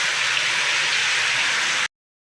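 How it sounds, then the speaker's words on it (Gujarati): Heavy rain pouring down at night, a steady dense hiss of close downpour with no talk, cutting off abruptly near the end. "જોઈ શકો છો ફૂલ વરસાદ આવે છે"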